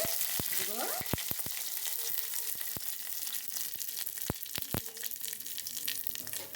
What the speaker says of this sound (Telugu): కొన్ని ఆవాలు, అలా అలా తిప్పుకొని కొద్దిగా ఎర్రగా బాగా ఎర్రగా రావాలి